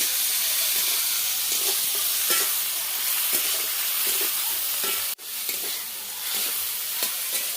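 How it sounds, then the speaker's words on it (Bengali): Steady frying sizzle and hiss from a pan of onion, green chili, garlic and tomato, continuous and close, with occasional stirring scrapes and a brief break partway through. "পেঁয়াজ, কাঁচা লঙ্কা, রসুন, টমেটো সমস্ত ভালো করে ভাজতে হবে।"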